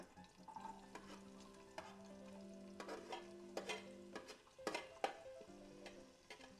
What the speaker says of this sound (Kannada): ಕರಿಬೇವು ಆ್ಯಂಡ್ ಅರಿಶಿನದ ಪುಡಿ ಹಾಕ್ತಾಯಿದ್ದೀನಿ ಇದೊಂದು ಸ್ವಲ್ಪ ನೀಟಾಗಿ ಫ್ರೈ ಆಗಲಿ ಎಣ್ಣೆಯಲ್ಲಿ